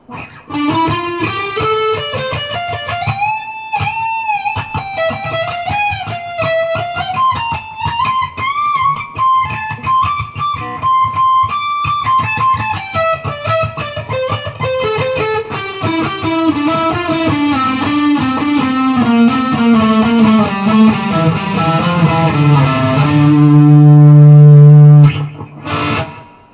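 A sustained electric guitar melody from a Schecter Damien Platinum 6 FR-S on its neck pickup, with a warm, rounded tone, notes sliding and bending, ending on a loud low chord that rings out.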